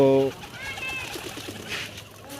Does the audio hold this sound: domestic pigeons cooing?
yes